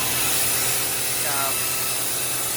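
An air compressor runs in a dyno shop as a dense, steady hiss and drone filling the room, loud and unbroken, with a faint brief whine midway and no clear voices.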